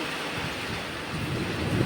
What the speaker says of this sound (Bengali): প্রচুর ঝড় উঠেছে দেখো ঝড় বৃষ্টি একসাথেই হচ্ছে